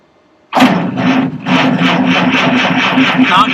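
A vintage Chevy fire truck with a 6-volt system cranks and catches. Silence breaks into loud starter grinding with rhythmic turnover pulses, then the engine fires into a steady rough running note, with people talking around it.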